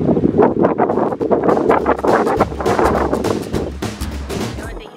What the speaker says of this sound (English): The only thing you have to worry about is the wind and the breeze and the breeze blowing things around